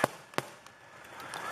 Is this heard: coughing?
no